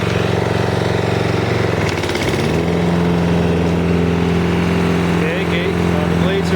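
A Toro Personal Pace walk-behind mower with a rear wheel drive grinding fault runs loud and steady with its blades engaged, the engine droning close by and its pitch shifting slightly partway through.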